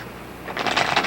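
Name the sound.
shuffling playing cards on a kitchen table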